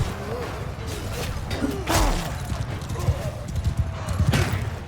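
A horse galloping in Mount & Blade II Bannerlord, steady rapid clip-clop hoofbeats with a whinny during a battle charge, combat noise and background voices underneath.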